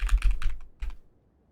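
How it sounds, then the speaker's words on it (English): Soft, quiet typing on a Slay the Spire themed computer keyboard: a quick cluster of muffled keystrokes, a short pause, one last tap, then silence. "This is me typing it quietly, but also I can try typing it loudly."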